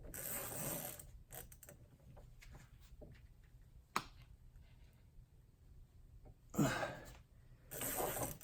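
A Husky 144-position dual pawl ratchet from a 125-piece mechanics tool set clicks through test pulls, with scattered faint clicks and a few louder ratcheting bursts and handling noises.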